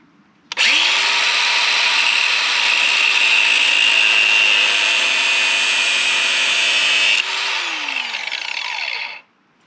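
A power cutting tool starts up and runs steadily, whining loud and close as it cuts through a choke cable wrapped in a glove on a mini excavator, then winds down and stops.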